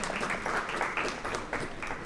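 An audience at a party program applauds guests who have just been named, giving a short, steady stretch of clapping heard from the room at moderate distance.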